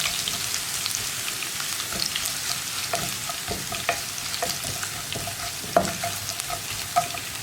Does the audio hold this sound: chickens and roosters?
no